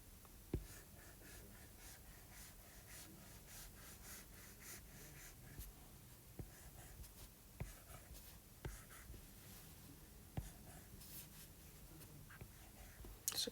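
Pencil or marker scratching across paper while a fire picture is drawn and coloured in, a steady close rubbing texture with short strokes and taps, quiet and alone.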